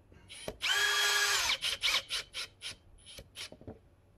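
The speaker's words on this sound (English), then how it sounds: "you take your screwdriver, just start your screw off there, place your bit of batten or timber on the inside of the wall like that" A screwdriver drives a screw through plasterboard into a timber batten: one sustained motor whir followed by a series of short bursts that grow fainter, close and clear with no talk.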